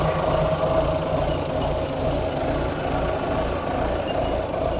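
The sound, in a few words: truck air brake system building air pressure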